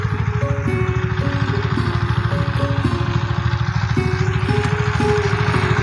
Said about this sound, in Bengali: বন্ধুরা দেখো পাওয়ার টিলার জমি চাষ করতে কাজে লাগে, এগুলো হেঁটে হেঁটে চালানো হয়।